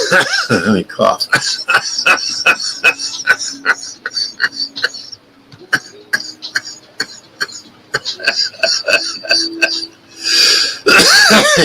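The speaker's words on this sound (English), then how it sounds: "Let me cough." A man coughs repeatedly in loud, close, rough bursts with throat clearing, the fits coming in irregular clusters with short gaps, ending in a harsher final spell.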